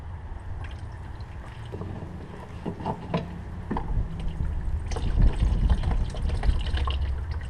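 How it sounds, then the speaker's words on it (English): Leftover diesel fuel is poured out of a removed old fuel filter from a Jeep Grand Cherokee EcoDiesel, giving a close, soft liquid splash and dribble that swells to a fuller gush toward the end. "When the filter is completely removed, you can dump the extra fuel inside the filter."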